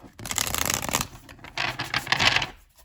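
Tarot cards being shuffled in quick riffling bursts, crisp papery rustles close by with a short pause midway.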